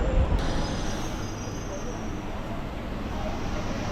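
A Chennai MRTS suburban train rolls into a station with a steady low rumble and hiss, a faint high tone over it, heard from close by at an even level throughout.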